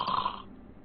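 A voice imitates a snore with a short, gravelly rasp lasting under half a second, close and fairly loud. It then fades into quiet breath noise, and there is no talking.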